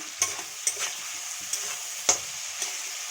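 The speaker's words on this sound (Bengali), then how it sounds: "এখন এটাকে ভালো করে ভেজে নেব।" Chilli chicken fries with onion, capsicum, tomato and salt in a pan, a steady sizzle broken by about six sharp spatula scrapes and clanks at uneven intervals, close up and with no talking.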